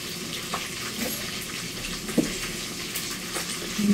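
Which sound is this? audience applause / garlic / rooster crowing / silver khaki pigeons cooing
garlic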